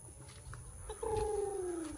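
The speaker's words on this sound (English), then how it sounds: "I've got to move those roosters." A rooster calls once at a rural Filipino homestead, a short falling crow that is fairly faint and moderately distant, heard over quiet outdoor background noise.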